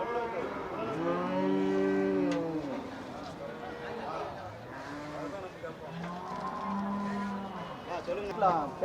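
Native cattle moo at a busy livestock market in Melapalayam, with long, loud, deep lowing calls from nearby animals, two main moos with others overlapping while traders talk in the background.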